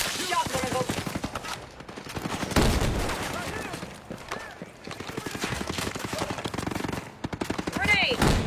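Rapid bursts of automatic gunfire and single shots crackle through a war-ship sniper PC game battle, with shouting voices and game sounds between volleys, intensity rising and falling across the stretch.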